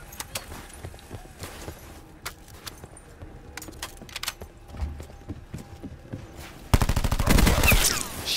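Gunfire in Call of Duty: Black Ops 4 on the Ruin map, with scattered sharp single shots and clicks that give way to a loud, dense automatic burst near the end.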